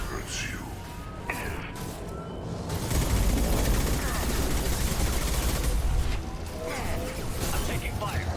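Dense gunfire from the video game Mass Effect 2, a rapid sustained rattle of shots layered with explosive bursts and game effects, loud and close throughout.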